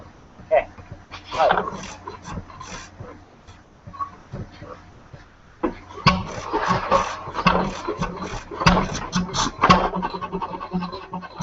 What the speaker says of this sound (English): We're running a 2 horsepower Fairbanks engine.